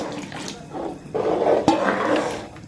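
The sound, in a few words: water being poured into cooking pot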